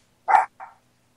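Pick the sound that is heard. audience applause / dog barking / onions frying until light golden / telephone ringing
dog barking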